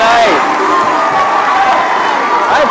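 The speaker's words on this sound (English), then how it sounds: "And the crowd is excited here tonight." A crowd cheers and shouts loudly and steadily in a gym during a girls volleyball spirit night game, the roar filling the space with a few higher voices rising above it.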